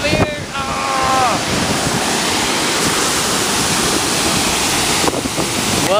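Strong wind buffets the microphone at a dam, a loud, steady roar of rushing air that drowns out almost everything; a brief voice is heard near the start.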